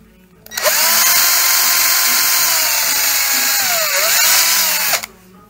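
A power drill bores a hole while building a homemade adjustable mousetrap, one steady loud whine that holds for about four seconds with a slight dip in pitch near the end before it stops abruptly.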